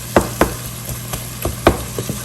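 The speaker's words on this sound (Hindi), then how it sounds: "लेकिन मैं थोड़ा सा इसको जो है इस तरीके से मिक्स करूँगी" Goat brain (bheja) is stirred and fried in masala in a pan, with a low constant sizzle broken by several sharp, close scraping strokes of the spoon in an uneven rhythm.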